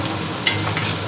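Chopped onion salted and frying in a pan gives a loud, steady sizzle with a brief scrape of stirring midway, no voices.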